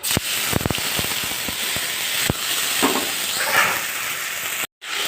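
Ginger garlic paste and crushed whole garam masala frying in hot oil, a steady loud sizzle and hiss with scattered pops and crackles, broken by a brief silence near the end.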